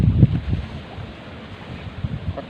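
Wind blowing steadily outdoors, buffeting the microphone in low gusty rumbles that rise and fall, fairly loud with no voices.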